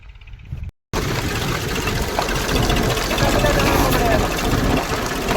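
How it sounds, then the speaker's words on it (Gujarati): A tractor engine running steadily at close range while sowing chickpeas in a field, a continuous mid-pitched chugging drone that starts after a short gap, with voices faintly underneath. "ટ્રેક્ટર આવી ગયું છે વાવવા તો જો ચણા વાવવાનું ચાલુ કરી દીધું છે"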